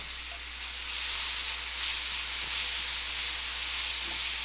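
Rotel canned tomatoes hit a hot pan of rice and sizzle. A steady, moderately loud hiss of frying runs throughout, with faint crackles. No one speaks.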